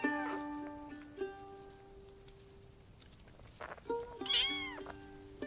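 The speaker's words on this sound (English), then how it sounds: "Bobcat kittens, just 4 weeks old." Four-week-old bobcat kittens mew in thin, rising cries, several short calls spread over a few seconds, close and fairly clear, with soft rustling and padding between them.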